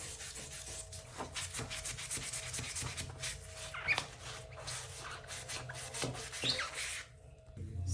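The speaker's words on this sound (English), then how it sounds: "Just go ahead and take your magic eraser to it and most of it should come off." A magic eraser scrubs shower grout in quiet, rhythmic rubbing strokes, a soft close scratching that pulses steadily back and forth before trailing off near the end.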